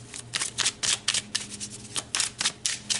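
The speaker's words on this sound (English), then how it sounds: "let's pull you some more cards" A tarot card deck being shuffled by hand, with a run of quick riffling bursts repeating in an even rhythm, close and crisp, with no voice over it.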